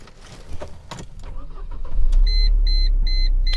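A 1999 Mercedes-Benz SLK 230 Kompressor is started: faint clicks and cranking give way to the engine catching and settling into a loud, steady idle, while repeated warning beeps chime over it.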